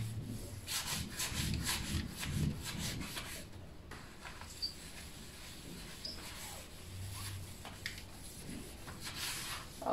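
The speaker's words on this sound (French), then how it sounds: "Et je vais venir frotter ma vitre. Voilà. On frotte de partout." Ash rubbed over the glass window of a wood stove, a close, continuous gritty scrubbing in repeated back-and-forth strokes that eases off in the middle and then picks up again.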